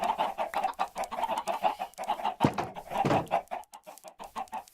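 Several chickens cluck nearby in quick, uneven bursts, a busy farmyard chatter of short clucks and squawks with no voices.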